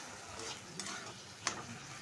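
Jute leaves (pat shak) cook in a pan with a faint, steady sizzle, and a spoon scrapes through them now and then, with two brief clinks standing out.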